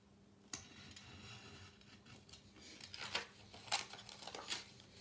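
Scissors snip into a die-cut card just inside the line, giving a few soft, crisp cuts and paper rustles close to the listener at very low volume, with no talking.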